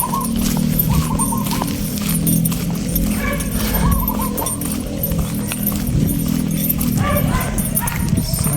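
Dogs bark repeatedly outdoors at some distance, short yips and barks recurring through a steady background murmur of voices and ambient noise.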